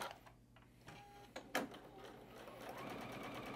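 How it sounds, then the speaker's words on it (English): A sewing machine stitching across quilt block squares, with a few handling taps and clicks first, then a steady rapid mechanical whirring that builds and continues to the end. "I'm just lining up the 3 outside edges there so I can sew across that line"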